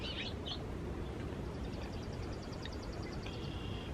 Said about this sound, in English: Birds are all chirping